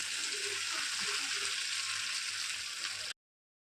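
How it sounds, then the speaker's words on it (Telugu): Sweet dough dropped into hot oil for deep frying, a steady bright hiss of bubbling oil that runs unbroken at close range before cutting off abruptly near the end. "ఇది ఇట్లా నూనెలో వేసుకోవాలి మొత్తము"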